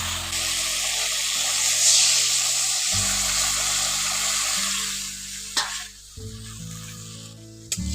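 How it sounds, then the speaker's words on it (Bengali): Water poured into frying tomatoes in a pan, a loud steady hiss and sizzle that fades toward the end, with a few stirring knocks and a low background hum. "এবার পরিমাণ মতো জলটা দিয়ে দিচ্ছি।"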